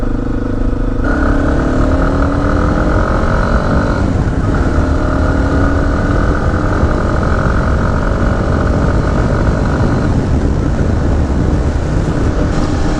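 A 2017 Yamaha XT250 motorcycle engine runs steadily right after a bump start, with a loud, close, continuous idle.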